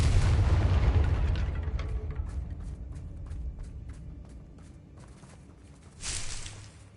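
A Confringo blasting spell explodes in Hogwarts Legacy, a heavy, rumbling boom that slowly fades, followed by a series of light rhythmic ticks and a second, softer burst near the end.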